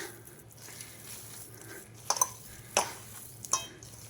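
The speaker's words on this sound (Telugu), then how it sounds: "ఇప్పుడు దీన్నంతా బాగా మిక్స్ చేసేసుకుంటా" Corn batter with jaggery and salt being mixed in a bowl, a few soft wet squelches and spoon clinks near the end over a quiet background, close and brief.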